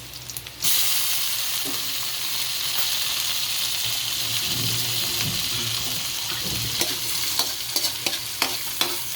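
Tomatoes frying with onions in a pan for pakbet: a continuous moderate sizzle with stirring and scraping, a sudden louder burst as the tomatoes go in, and a few sharp clicks of the utensil near the end.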